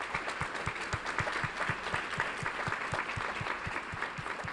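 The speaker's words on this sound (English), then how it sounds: "Let's give her a round of applause." Steady applause from a crowd at a school board meeting, many hands clapping together continuously at moderate loudness, with a faint rhythmic thump underneath.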